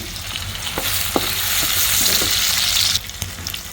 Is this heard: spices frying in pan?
yes